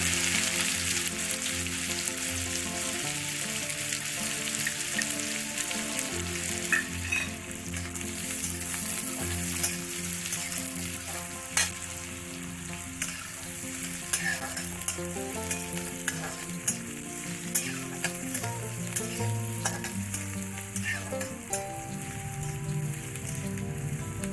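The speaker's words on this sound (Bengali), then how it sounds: "এটাকে আমি বেশি ভাজবো না" Finely chopped medium-sized onion fries steadily in a pan for bread pakora, a continuous dense sizzle with occasional stirring scrapes and clicks throughout, close and moderately loud with no talking.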